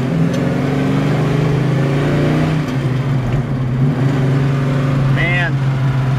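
A 1968 Pontiac GTO with a four-speed is driven and shifted through the gears, its engine droning loud and close as the pitch drops at a gear change, with someone talking over it.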